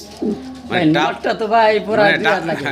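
Exhibition pigeons, including a pair of German Beauty Homers in black checker, coo loudly and up close in a steady run of rolling, throaty calls.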